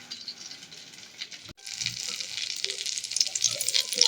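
Breadcrumb-coated mashed potato sticks frying in hot oil, a quieter crackle that swells after a short break into a bright, busy sizzle with scattered pops, close and without talk.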